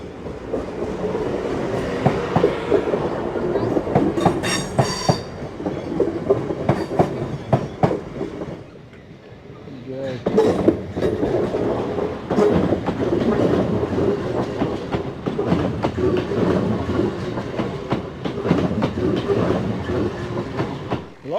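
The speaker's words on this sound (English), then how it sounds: "I wonder if we'll see a train, and here we are." A train rolls past for a long stretch, wheels clattering rhythmically over rail joints, with a brief lull midway before the carriages continue rumbling by.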